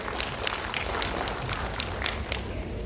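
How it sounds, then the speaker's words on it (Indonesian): An audience at an Umrah Ramadan pilgrimage preparation gathering claps steadily, a dense roomful of hands with sharp individual claps poking through, fairly quiet and continuous throughout. "tepuk tangan yang meriah untuk kita semuanya"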